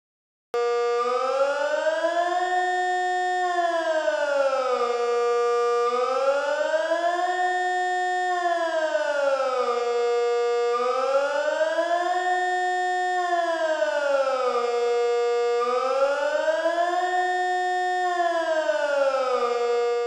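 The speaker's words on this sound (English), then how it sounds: "Sirenentest. Jeweils am ersten Mittwoch im Februar." A German civil defense siren sounds during the routine test held on the first Wednesday of February, a loud steady wail rising and falling in repeated slow cycles for twenty seconds.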